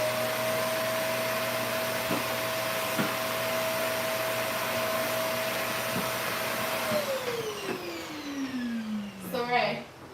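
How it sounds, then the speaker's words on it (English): A vacuum cleaner sucks hair off a floor with a steady whine that runs for several seconds, then winds down in falling pitch as it shuts off, ending in a brief clatter. "And I got a vacuum, so the vacuum just suction it up."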